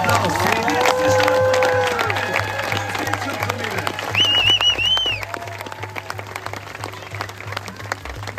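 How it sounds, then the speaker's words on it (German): Spectators at the 2024 Erding city triathlon clapping and cheering, a loud burst of applause that gradually thins out, with an announcer's amplified voice and music running underneath. "wir spenden euch einen dicken Applaus für die letzte Stunde"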